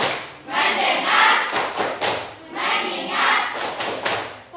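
A group plays the 'tepuk fokus' ice-breaking clap game, clapping in rhythmic patterned bursts. Two main rounds of crisp, full-room claps are separated by short pauses.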